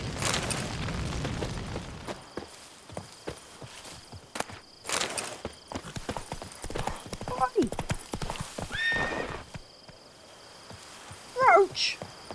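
A horse in The Witcher 3 trots with steady, rhythmic clip-clopping hooves, joined by a couple of whinnies and game sound effects, while voices talk over the top.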